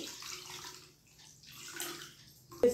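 Water poured into a pot of raw mango pachipulusu, a tomato-free tangy Telugu tamarind-style soup, giving a steady close splashing pour that rises and falls over a few seconds and ends with a brief sharp knock.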